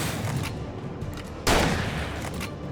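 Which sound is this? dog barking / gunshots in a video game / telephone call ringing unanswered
gunshots in a video game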